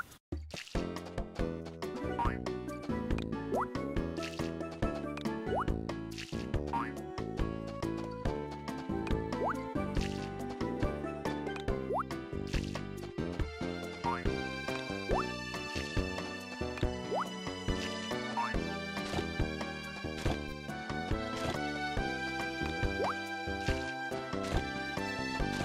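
Water from a watering can drips and splashes in steady, repeated bursts in the video game Harvest Moon: Sunshine Islands, layered over continuous game music with no talking.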